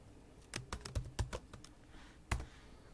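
Computer keyboard typing a text label, a quick run of sharp key clicks followed by a slightly louder single keystroke for enter, close and clear with no talking.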